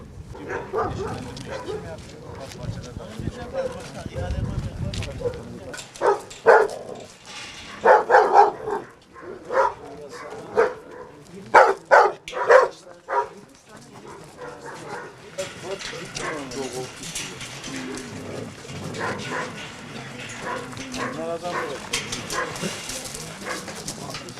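Several dogs bark at a large animal shelter with a 500-dog, 250-cat capacity, sharp repeated barks and yips clustering in bursts midway, mixed with whimpers and someone speaking through much of it.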